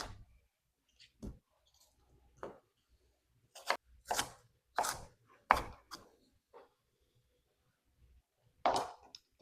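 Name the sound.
chopping an onion into chunks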